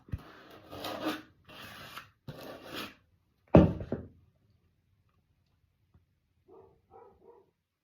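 Icing is scraped and spread across a homemade cake in a few close rasping strokes, then a louder knock, with a short soft rattle near the end and quiet gaps between.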